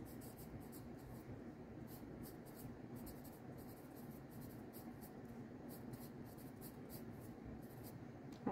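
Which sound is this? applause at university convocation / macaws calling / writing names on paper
writing names on paper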